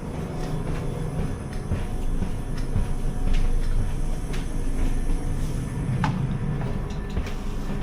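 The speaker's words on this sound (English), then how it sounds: "Small air leak there I can hear," Old Piccadilly Line Underground train carriage with a small air leak, heard as a steady rumbling, hissing interior drone with occasional clicks and knocks, moderately loud, no talking.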